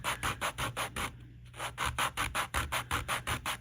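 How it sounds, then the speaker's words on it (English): Bottom edges of polymer clay beads being sanded, a close, rhythmic rasping of quick back-and-forth strokes with one short pause near the middle, no speech. "just sand that bottom edge. Okay. Every single one gets sanded."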